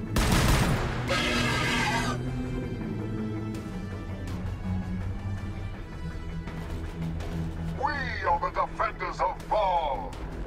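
Units open fire in the Warhammer 40k Battle Sector game, a burst of loud blasts and rattling fire at the start followed by scattered crashes and shots, with a voice speaking over parts of the mix.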